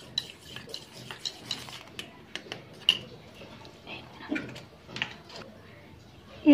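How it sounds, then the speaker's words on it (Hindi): A spoon clinks and scrapes against a cup while honey is stirred into milk, giving light irregular taps spread over several seconds, faint and close. "हम इसे अब मिक्स करेंगे"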